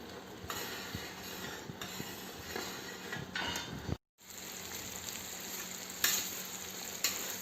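Ada, the rice flakes for ada pradhaman, crackle in ghee in a pan, a continuous soft sizzle broken by stirring scrapes, with a brief dropout midway.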